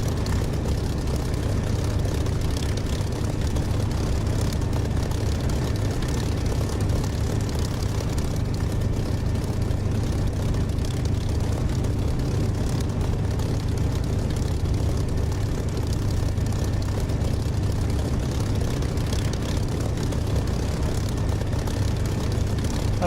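Steady low propeller aircraft engine drone in the DCS flight simulator during takeoff, loud and continuous with a heavy rumbling low end throughout, no voices.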